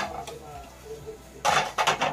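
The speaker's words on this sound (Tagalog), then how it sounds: "So ito, prepare muna ako maghugas ng mga plato dito." Dishes and plates are handled for washing, with soft knocks followed by a few bright clinks and clatters of crockery close by.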